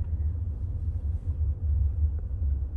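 A car driven by a first-time driver gently gathers speed, its engine a low, steady rumble heard from inside the cabin, moderately loud with no talking.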